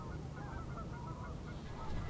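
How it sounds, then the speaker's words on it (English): Canada geese honk in an open field, a continuous chorus of overlapping nasal calls from a flock at moderate distance over steady outdoor background noise. "I found these Canada geese in a field, poking around, looking for whatever they could find."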